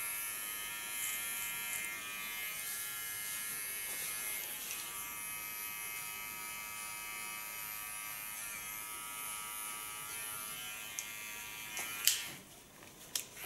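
An electric hair clipper buzzes in a steady, close, even drone while cutting short hair in a salon, ending with a few faint clicks as it is moved or switched off.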